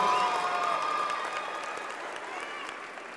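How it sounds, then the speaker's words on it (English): Audience applause for a keynote speaker at a university MLK Day event, a dense wash of clapping from a large crowd that gradually fades in level. "y'all give her a round of applause as she comes"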